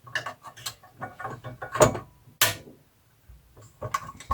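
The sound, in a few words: channel lock pliers turning a bolt on an ice auger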